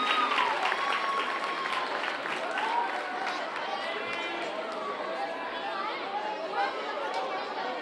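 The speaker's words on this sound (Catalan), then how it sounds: "un fort aplaudiment." An audience at a youth music event applauds after a performance of a song, a steady, dense wash of clapping with crowd chatter and voices mixed in throughout.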